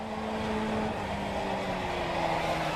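A race car in the iRacing simulator at Barber Motorsports Park holds a steady engine drone throughout, with a tonal whine that wavers as the car nears the edge of grip and starts to slide.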